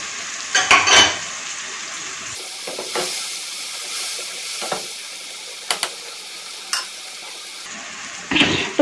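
Chopped tomatoes go into okra frying in a pan and are stirred in: a steady oily sizzle with a few scraping stirs near the start and end, up close and with no talking.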